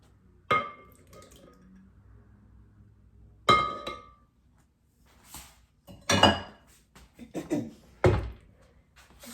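Two room-temperature eggs cracked into double chocolate chip cookie dough: four sharp, close knocks and clinks of shell against a bowl, spaced a couple of seconds apart, with quiet pauses and no talking.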